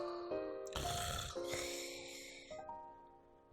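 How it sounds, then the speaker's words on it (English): Snoring sound from a sleeping character in the Final Fantasy X video game, heard as a few drawn-out, tonal breaths with hissy bursts, fairly close and steady across a few seconds. "My favorite snoring noise."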